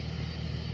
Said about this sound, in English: This car's passing.